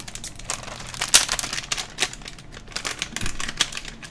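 Plastic keycaps being pulled off a mechanical keyboard by hand, heard as a steady run of close, sharp clicks and crinkly plastic snaps, with a few louder pops standing out among them.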